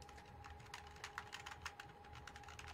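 Computer keyboard keys pressed during a Farming Simulator 2011 game session, a run of light rapid clicks in an irregular rhythm over a low steady hum, close and quiet with no talk.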